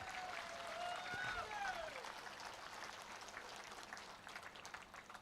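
An audience at a public guarantee-scheme beneficiaries' gathering in Puttur applauds continuously, a faint, distant crowd clapping mixed with background voices throughout.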